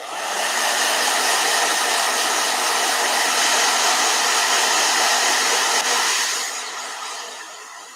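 A blow dryer runs loud and steady at close range, a continuous whooshing roar that holds for several seconds and then tapers off near the end, with no voices.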